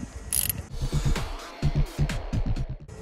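A wrench ratchets on the half-inch nut of the negative battery terminal on a 1987 Gravely riding mower, giving bursts of close, uneven metallic clicking and clacking with no voices.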